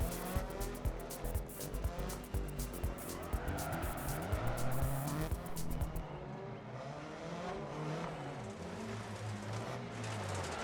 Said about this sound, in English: I just like the sounds of the engines and the environments.